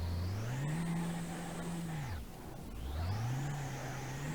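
A Ford 6.3L V6 in a 200Bx car in BeamNG.drive revs up, holds a high whining drone, drops off, then climbs and holds again, loud and close with no talk.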